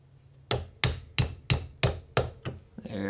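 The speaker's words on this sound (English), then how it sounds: "I need to get a brass or plastic hammer, but for now this'll work." A steel hammer drives a pin into an AR rifle receiver with six sharp metallic taps at an even pace, close and loud, followed by a brief rattle at the end.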